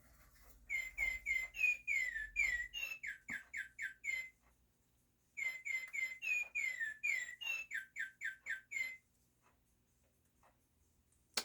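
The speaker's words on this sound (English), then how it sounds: "Oh, there's the bird clock going off." A bird clock chimes the hour, 6 a.m., with a recorded birdsong call: two loud bursts of rapid, repeated chirping whistles separated by a pause, then a quiet click, heard alone indoors.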